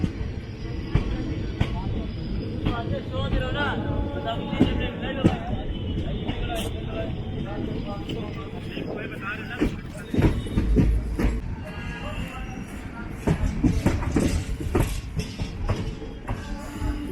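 Lucknow Barauni Express running on rails, a continuous rumbling clatter with rhythmic wheel knocks and rattling carriage noise, growing rougher midway, steady and fairly loud throughout.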